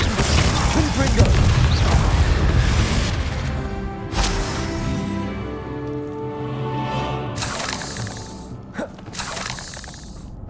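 Confringo fire-blast spell explosions in Hogwarts Legacy, heavy booming blasts and crashing debris amid battle noise, followed by ringing tones and a couple of sharper bursts later.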